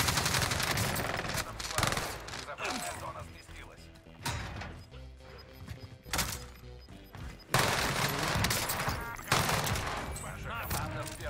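Heavy enemy gunfire in Call of Duty Warzone, with dense bursts of rapid automatic fire and impacts coming in waves, loud and close, with short lulls between bursts and a player talking over it.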